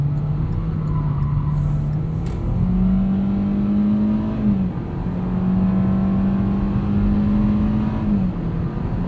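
A 2020 Hyundai Accent Limited with an IVT accelerates in sport mode, its engine drone climbing in steps through simulated shifts under steady road and cabin noise.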